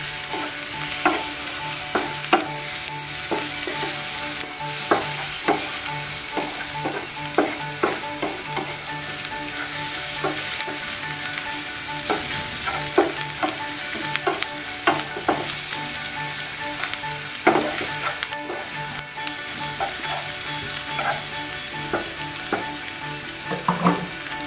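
Turmeric and spices sautéed in a pan for a mola fish curry, giving a steady close sizzle throughout, punctuated by frequent sharp spatula scrapes and clicks against the pan; no voices.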